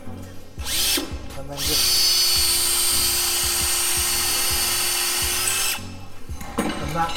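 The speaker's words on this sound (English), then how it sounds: "we can put it into a drill, put it onto speed one" A power drill set to speed one spins a plumbing pipe to deburr it, with a steady, close whir lasting several seconds. Clicks and handling noises come before and after, and a person speaks briefly.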